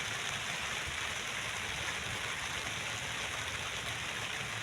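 Steady rain falls at a construction site, a dense, even hiss of water with no breaks, fairly close and moderately loud, with no voices over it.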